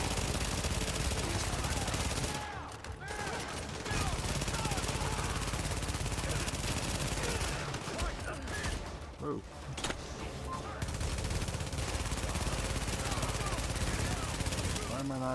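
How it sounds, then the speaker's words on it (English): Gunfire from the video game The Division, with shotgun blasts and rapid shots forming a dense, loud, continuous barrage with only brief lulls. "Shotgun."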